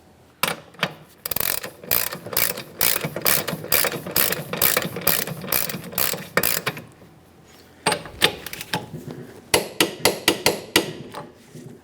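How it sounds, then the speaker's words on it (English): A hand ratchet tightens the axle nut on a 1994-1997 Honda Accord rear wheel hub, rapid bursts of loud, close clicking, pausing briefly midway before resuming in shorter strokes. "you want to make sure you bottom it out with a ratchet, never with an impact tool"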